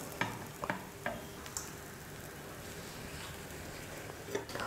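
An egg-coated chapati cooks in a pan over a medium flame, giving off a soft, steady sizzle. A few light clicks and taps are scattered through it, and no one speaks.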